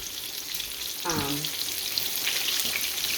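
Green tomatoes frying in a deep fryer give a steady, close, broadband sizzle throughout, with a brief lower clatter partway through.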